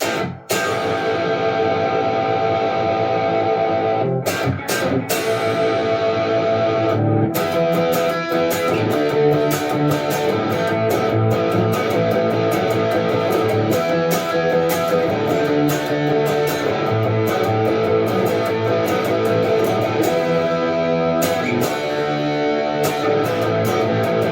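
Loud distorted electric guitar on the bridge pickup of a Fazley Buttercup FTL200BSB-M, with a bright, biting tone, chords and riffs played continuously with heavy drive and some echo.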